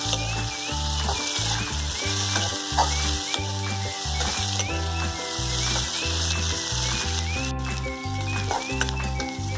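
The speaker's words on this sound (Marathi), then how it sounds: "यातून त्याला आता लालचं होईपर्यंत भाजून घेतो" Onions and spices for egg curry fry in a pan until reddish, giving a steady sizzle over a repeating mechanical whirring and clicking that runs throughout, with no talk.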